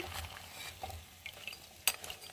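Onion samosas frying in oil, a faint low sizzle with soft stirring scrapes and one sharp metallic clink of a utensil against the pan, no voices.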